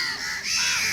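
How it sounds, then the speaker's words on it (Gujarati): A crow caws loudly and close in one brief, harsh call, while crows feed on puffed rice and biscuits near a Hanuman temple. "જો અહીંયા કાગડા છે ને મમરા ખાય છે, બિસ્કિટ ખાય છે"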